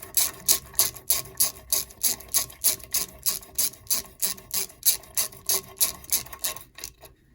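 Ratchet clicks in a fast, steady run of about twenty strokes as a bolt is nipped up on a 1963 Lambretta LI125 Series 3 kickstart held in a vise, close and alone with no talk.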